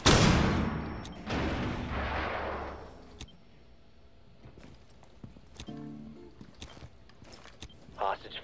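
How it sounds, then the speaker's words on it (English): A flashbang grenade thrown in the video game Rainbow Six Siege goes off as a loud burst, then rumbling and scattered sharp impacts and clicks fade into quieter game noise. "Throwing a flashbang!"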